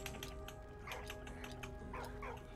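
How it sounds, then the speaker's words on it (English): A dog in the video game Valiant Hearts gives a few quick, yippy barks and whimpers over a steady background hum of game music. "Good dog."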